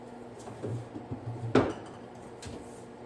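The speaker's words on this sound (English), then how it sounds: "Now I'm gonna pull my preheated cast iron skillet out of the oven." A single heavy metallic clunk of a preheated cast iron skillet being lifted from the oven, with a few lighter clinks of cookware before and after in a quiet kitchen.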